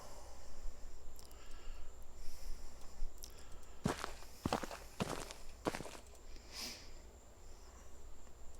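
Footsteps from a free footstep sound asset set up in an Unreal Engine 4 game, a short run of several distinct steps over a faint steady background hum, with no voice.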